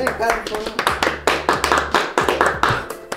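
Hands clap in a quick, even rhythm of sharp, close claps that keep going steadily for a few seconds.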